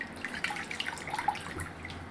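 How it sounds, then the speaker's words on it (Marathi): Water dripping and trickling from boiled spinach squeezed by hand, a few soft irregular drips and splashes close by, quiet and alone. "हे पालक मस्त थंड झालाय थोडस आपण ह्याला पिळून घेऊया हे बघा हाताने"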